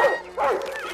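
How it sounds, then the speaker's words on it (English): A family dog named Barney gives a quick pair of high, yelping barks with whiny rising and falling tones, close and fairly loud, then a short pause before another bark. "Barney jumped up and barked at the mischievous creature"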